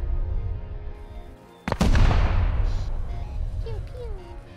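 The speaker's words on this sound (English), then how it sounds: "Can they see the explosions?" Rocket explosions in the video game Rust during a raid: a sudden loud blast followed by a long rumbling roar that slowly decays, after a brief quiet gap, with faint voices nearby.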